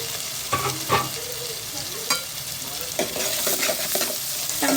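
Chopped onion and tomato fry in a pan for a village-style egg and dried fish curry. A loud, steady sizzle runs throughout, broken by several sharp scrapes and knocks of a spoon stirring.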